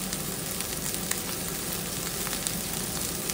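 Broccoli stir-fries in hot oil in a wok, giving a continuous dense sizzle with faint crackles and the occasional stir, steady and close throughout with no voices.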